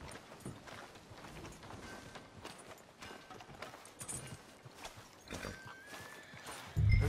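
Horse hooves clip-clop in the video game Red Dead Redemption 2, an uneven series of soft thuds with faint ambience and a brief louder low bump at the end.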